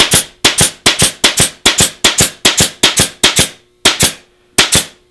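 A pin gun fires pins into a deer head mount during taxidermy, a rapid series of about a dozen loud, sharp close snaps at a quick, slightly uneven rhythm, the last few spaced wider apart.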